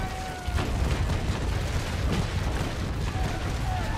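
A sailing warship's cannon broadside fires in the naval combat game Naval Action, a dense rumble of booms rolling for several seconds, loud and close, beneath a speaking voice.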